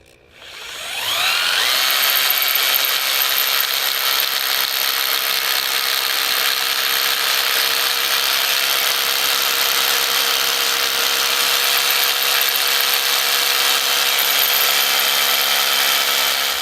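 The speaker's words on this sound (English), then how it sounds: "I got to drill another hole." A power drill bores a hole during cabin building, spinning up with a rising whine and then holding a steady high-pitched drone, close and alone, for most of the clip.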